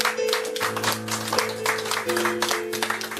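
A room claps for a guest at an evening poetry gathering, a sustained burst of applause with a faint tonal hum or voice running beneath it for around three seconds.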